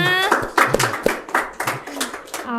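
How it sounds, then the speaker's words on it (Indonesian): A small audience at an Indonesian stand-up comedy talk gives a few sparse, close hand claps while a person keeps talking over them. "Boleh kali teman-teman tepuk tangannya"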